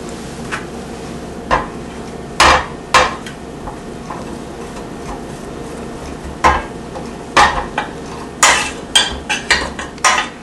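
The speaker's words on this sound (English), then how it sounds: "take a rubber spatula and scrape all the remaining chocolate into one space" A rubber spatula scrapes melted chocolate together in a pan, giving scattered sharp scrapes and knocks, some in quick clusters, over a steady background hum.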